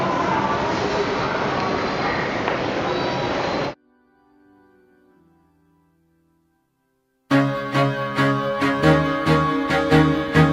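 A steady rushing rumble of a passing train runs for a few seconds, cuts to near silence, then music with a beat begins.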